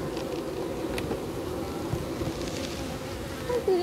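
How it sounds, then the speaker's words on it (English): Bees buzz steadily around an open beehive, a dense, close hum that continues throughout with no voices. "Oh yeah, so see that bee right there? That's an old bee."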